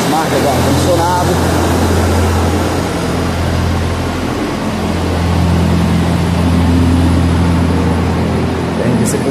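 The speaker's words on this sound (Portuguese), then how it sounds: "Fui na casa das máquinas, muito barulho, ar-condicionado" A loud, steady mechanical drone with low humming tones fills a building's machine room, where air conditioning machinery runs nearby.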